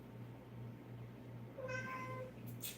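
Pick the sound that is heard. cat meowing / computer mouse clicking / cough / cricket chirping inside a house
cat meowing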